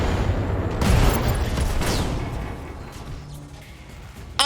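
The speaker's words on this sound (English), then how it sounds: "Ammo explosions!" Ammo explosions in the BattleTech mech strategy game: a dense, rumbling burst of booming blasts and crackling debris, loud at first and gradually fading, with a sharp final crack at the end.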